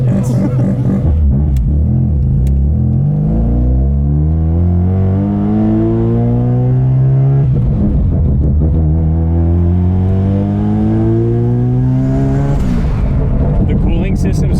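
An 800whp Subaru STi engine revs hard, rising pitch climbing through two long pulls with a brief dip between, loud and close, heavy rumble throughout.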